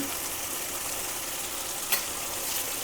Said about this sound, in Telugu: నేను టూ స్పూన్స్ ఆఫ్ అల్లం వెల్లుల్లి పేస్ట్ వేస్తున్నాను